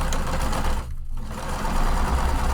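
Sewing machine stitching waterproof canvas for a tote, a loud close rapid mechanical chatter with a brief pause midway before running again.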